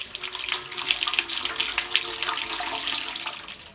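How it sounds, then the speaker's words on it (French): Tap water pouring steadily into a home brewing kettle, about 20 litres for a beer batch, a continuous near splashing rush with no speech. "Donc pour ma recette, je mets 20 litres d'eau."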